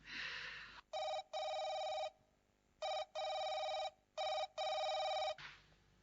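A telephone bell rings in a Turkmen radio play, with three double bursts of electronic ringing separated by short pauses, loud and close, alone without talk.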